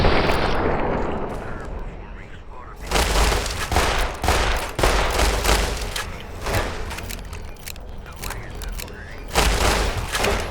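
Gunfire in the video game Fallout: New Vegas comes as a dense series of loud booming shots and thuds over several seconds. A dull rumble opens it before the rapid bursts of fire begin.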